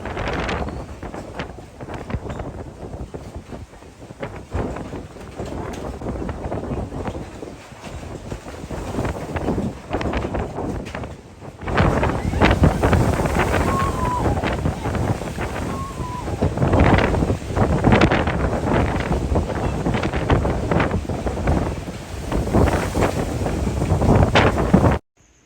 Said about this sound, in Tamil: சரியான காற்றும் மழையும் எப்படி அலை அடிக்கன்னு பாருங்க